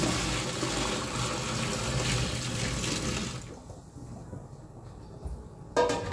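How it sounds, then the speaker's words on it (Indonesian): Hot water poured from a spout into a washing machine drum dosed with oxy powder, a steady splashing stream for about three seconds, then stopping, leaving quiet room tone and a faint knock near the end. "Kemudian nanti kita siram pakai air panas"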